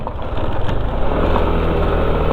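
Honda CRF 150 dirt bike engine running steadily on a rural road in Pantabangan, a continuous close, loud low rumble with a constant drone and no break across the whole stretch.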